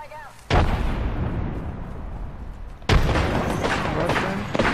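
Two heavy booms of a frag grenade exploding in Apex Legends, the first after a short pause and the second about two seconds later, each a loud sudden burst trailing into rumbling decay.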